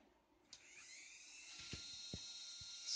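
A small electric motor powered by an iron nanoparticle battery starts up with a faint click, then spins up into a thin, steady high whine running close and quiet, with a few soft knocks.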